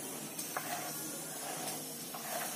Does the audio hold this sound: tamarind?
yes